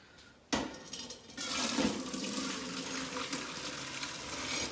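Hot chicken bone broth is poured straight from the pot into a deep colander. It makes a sudden loud splash, then a steady gushing pour of liquid that goes on, close and continuous.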